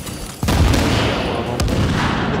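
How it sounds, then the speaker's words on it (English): Gunfire aimed at a gas tank in The Division video game at the Broadway Emporium: a sudden loud burst of rapid shots that then carries on as a dense, sustained clatter of fire. "I'm gonna try and shoot that gas tank"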